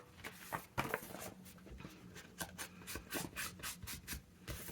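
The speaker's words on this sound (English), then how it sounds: "I'm just using my trimmer to get them to the right size." Paper trimmer cutting craft papers to size for an envelope notebook, a series of close, quiet scraping and sliding strokes in an irregular rhythm, with no talking.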